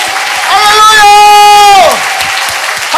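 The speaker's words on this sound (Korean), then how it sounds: "오늘 이 밤 우리가 주님 앞에 다시 한번 영광과 존귀와 감사의 박수로 주님 앞에 나아가겠습니다." A church congregation claps in thanks during a Holy Week revival service, a broad wash of clapping behind a loud, sustained shouted voice that dominates the middle of the clip before the applause carries on alone.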